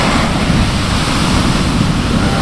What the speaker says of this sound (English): Wow, look at this wave.